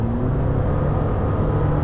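A Lamborghini Temerario's gruff engine revs steadily and loudly from inside the car while driving, holding a continuous low drone with a slight pitch rise near the start.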